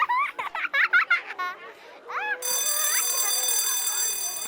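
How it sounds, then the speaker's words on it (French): School bell ringing in a schoolyard at recess, a steady electric ring entering midway under high-pitched children's voices chattering and playing nearby. "Oh, la sonnerie!"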